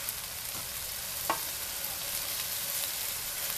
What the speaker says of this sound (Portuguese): Fritando com tomate